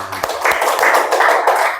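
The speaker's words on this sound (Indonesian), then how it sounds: "tepuk tangan." A class of students clapping hands in a religious education lesson, a short burst of quick, close claps in a brisk patter lasting under two seconds.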